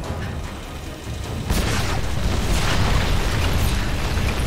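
A lightning strike in Tomb Raider (2013) hits with a sudden loud crack and then a sustained rumbling roar that fills the rest of the moment, heavy and close, with no voices.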